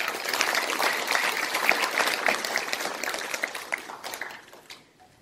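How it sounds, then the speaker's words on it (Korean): An audience breaks into warm applause at an assembly electing its sixth president, the crowded clapping peaking early and then tapering off into quiet over the last seconds. "큰 박수 보내고"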